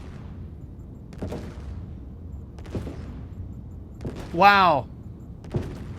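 Ship weapon fire in a space combat video game aimed at the hull of a ship called the Tiburon: a few separate thumping shots and one louder, sweeping, resonant blast in the middle, with a brief spoken exclamation.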